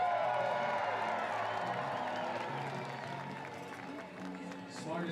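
A stadium crowd at a Portland Pickles versus Medford Rogues baseball game cheers, whoops and applauds loudly and steadily, a dense roar that eases slightly toward the end, with a voice faintly underneath.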